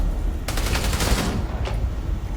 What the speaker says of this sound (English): Turns out they use mainly old school shotguns.